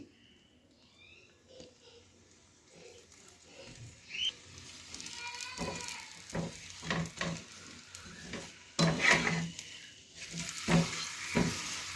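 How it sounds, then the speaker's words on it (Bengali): Paratha frying in a little oil in a pan, with a soft, irregular sizzle and crackle that builds and pops more toward the end, close by and moderately quiet. "তো আমি তেল দিয়েই ভাজছি"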